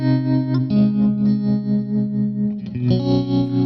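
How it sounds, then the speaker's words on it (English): Electric guitar played through the new pitch block of a Fractal FM3/FM9 modeler, shifted down one step, giving sustained clean chords with a thick layered effect, held notes changing a few times, steady and close with no talk. "This new pitch block works perfectly."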